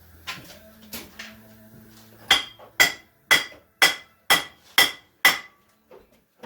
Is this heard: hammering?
yes